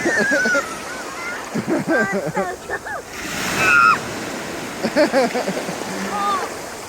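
Shallow Mediterranean Sea waves washing at a beach in Israel, a steady broadband wash of surf under close, frequent talking and excited voices of people wading in.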